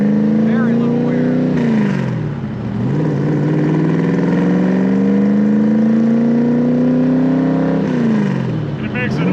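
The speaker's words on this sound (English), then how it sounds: "it makes an awesome sound on those side pipes" A Stroker 347 cubic inch V8 in a 1965 Factory Five Shelby Cobra replica rumbles loudly through side pipes, holding a steady drone that rises and falls with throttle changes, dropping briefly twice as revs change.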